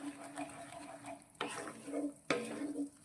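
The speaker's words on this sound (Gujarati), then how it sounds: "મસાલાને પણ 2 મિનિટ માટે આપણે આ ગ્રેવી સાથે સાંતળીશું." A spice masala is sautéed in gravy in a pan, giving a soft, close sizzle broken by two sharp scrapes or knocks of a spoon against the pan.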